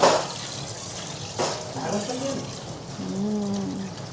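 Running water during washing at a home birthday and Christmas gathering: a steady faucet hiss and splash with a sharp splash at the start, while voices talk nearby.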